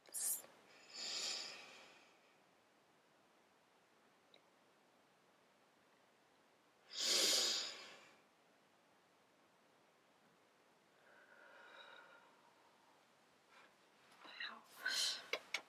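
Deep breaths taken during a breathing exercise come as a few slow, airy inhales and exhales, spaced several seconds apart. They are soft and close, with near silence between them.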